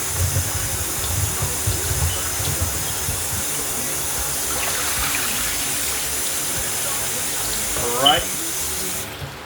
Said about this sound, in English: I'm getting the potatoes washed that I just peeled.